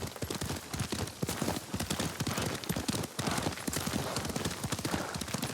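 A horse ridden in the game Ghost of Tsushima clip-clops in a fast, steady rhythm of hoofbeats, with a rumbling, busy bed of other game sounds underneath and no talk.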